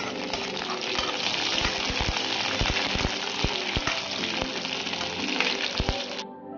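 Green chillies go into onions already frying in oil for an eel fish curry, giving a steady close sizzle with sharp, irregular taps of a spoon on the pan before it cuts off.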